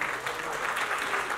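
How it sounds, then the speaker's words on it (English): Audience applause at a fashion launch and press event, a steady even wash of clapping from a crowd across the whole stretch, moderately loud with no voices on top. "Can we have a round of applause for Sudhir here?"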